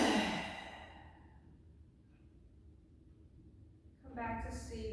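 A long breathy exhale during a stretching exercise, soft and close, fading into quiet before a voice begins speaking.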